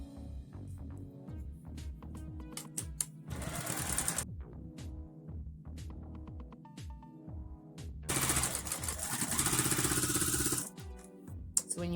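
A sewing machine hems the ends of fabric strips for ruffles, running in two loud rapid bursts separated by slower, intermittent needle clatter, close and with no talk.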